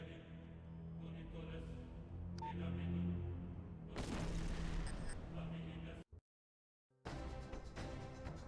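A remote bomb detonates in Hitman: Blood Money with a loud broadband blast, followed by a brief dead silence and a return of rumbling game ambience.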